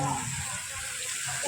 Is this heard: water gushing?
yes